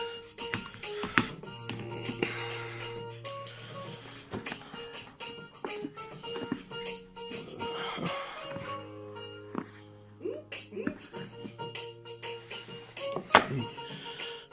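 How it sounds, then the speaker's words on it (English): Close rustling and handling, with soft taps, thunks and cardboard scrapes as a OnePlus 5T Star Wars Edition phone box is opened one-handed, plus a low hum in places. "So let's get this box opened up and have a look and see what is in the box."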